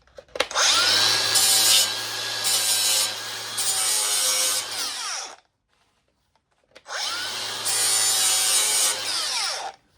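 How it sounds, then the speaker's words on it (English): A grinder works a weld bead down in two sustained runs, the first about five seconds long and the second about three, with a short silence between them. The grinding is close and loud, and no one talks. "I'm going to see here if I can kind of grind that off a little bit"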